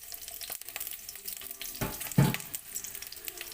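Onion, green chili, bay leaf, cinnamon stick, black pepper and star anise frying in a pan for squid adobo, a soft close sizzle with a couple of stirring scrapes and knocks.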